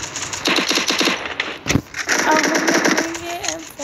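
M14 rifle fire in Garena Free Fire comes as rapid bursts of close, sharp shots, then a single loud report and more fire, with game effects and voices underneath.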